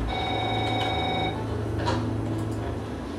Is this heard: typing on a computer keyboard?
no